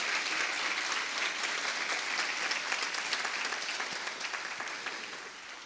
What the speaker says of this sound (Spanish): Les dan un fuerte aplauso al Señor por su palabra